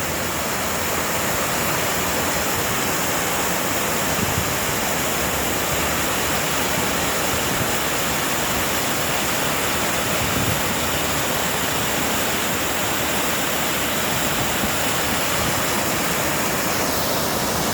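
Loud, steady roar of rushing water, a constant broadband wash with no pauses or voices.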